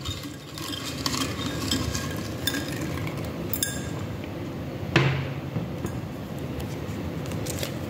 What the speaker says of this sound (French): Je vais terminer avec quelques petits cartons. Je vais essayer de bien brasser.